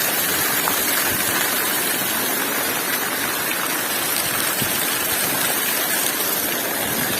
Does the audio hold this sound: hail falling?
yes